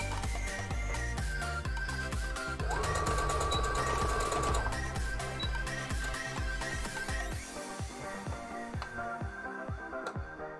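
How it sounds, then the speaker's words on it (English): Sewing machine stitching a face mask seam, running steadily at close range in a continuous whirring, rapid-stitch drone with slight speed changes, without talk. "We can sew this one because the seam won't be seen."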